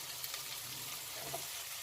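Curry leaves dropped into hot oil while cooking poha, a steady soft sizzle and hiss of frying, fairly faint and continuous, with no talking over it.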